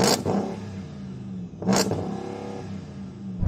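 The big V8 in a Hennessey Mammoth revs hard twice, each blip rising quickly and falling away into a loud, rumbling idle, heard up close with no talking.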